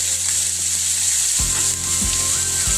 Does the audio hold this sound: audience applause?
no